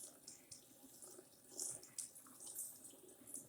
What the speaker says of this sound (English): make sure the water is flowing down